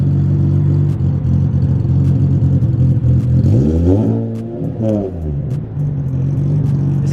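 A cammed Nissan 350Z engine idles with a deep rumble, then revs up sharply twice in quick succession before settling back to a steady idle, loud and close.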